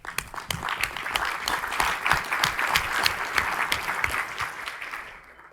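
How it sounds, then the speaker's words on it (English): Applause from a conference audience at a Digital CPA keynote, a moderate crowd clapping steadily with distinct individual claps standing out, swelling and then trailing off abruptly after about five seconds. "I just want to give you guys a big round of applause for what you're doing for us here"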